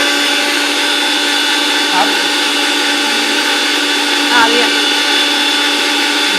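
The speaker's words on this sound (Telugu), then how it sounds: "మిక్సీ పట్టుకున్న తర్వాత ఫైన్ పౌడర్ రెడీ అయిపోయింది." A mixer grinder running steadily while grinding ajwain seeds into fine powder, a loud continuous motor whine that holds constant throughout, with a brief spoken word over it.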